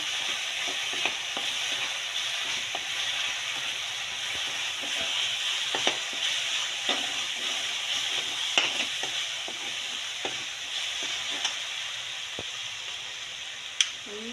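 Spiced masala (garam masala and a homemade blend) sautéed and stirred in a pan while stuffed brinjal curry is prepared: steady close frying sizzle with scattered spoon scrapes and taps, no talk.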